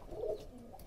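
A domestic pigeon gives a single soft, low coo, faint and close, in a quiet setting.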